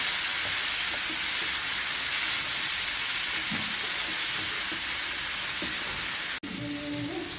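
Chopped tomatoes sautéing with onions in a pan, a loud continuous hissing sizzle with faint stirring scrapes, cut off abruptly near the end by a sharp break and a quieter tail.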